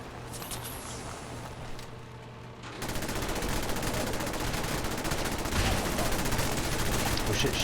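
Dense, continuous rattling gunfire in the video game Fallout 4, loud and sustained, rising into a heavier barrage partway through.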